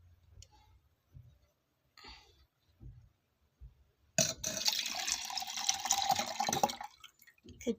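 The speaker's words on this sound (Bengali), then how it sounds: "এরপর এই দুধ জলটা ঢেলে ফেলবো" Milk and water are poured out after a ritual bathing, a few faint taps and handling sounds first, then a steady splashing stream for about three seconds that stops abruptly.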